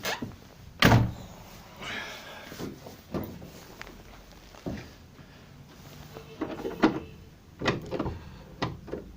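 ZAZ 1103 Slavuta car door opening, with a sharp thunk near the start followed by quieter clicks, rattles and handling noises from the door and central locking, fairly close.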